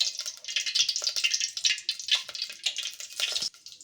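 Oil heats in a kadhai on a gas stove, giving a soft, uneven crackle and spitting hiss that flickers on and off, fairly quiet and close, with no talking.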